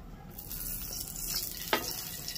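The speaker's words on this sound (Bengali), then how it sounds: "এবার এর মধ্যে আরেকটু তেল দেবো।" Oil poured into a hot pan of fried potatoes while cooking vegetarian rice with papad and peanuts gives a steady, fairly quiet sizzle and crackle, with a short splashy burst partway through.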